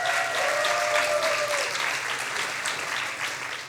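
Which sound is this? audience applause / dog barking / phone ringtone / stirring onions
audience applause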